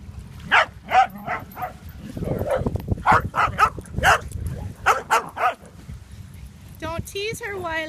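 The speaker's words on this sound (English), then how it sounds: "There's a big woofer." Big dog barking outdoors in a series of loud, close woofs, with people talking over and between the barks and a few whimpery yips near the end.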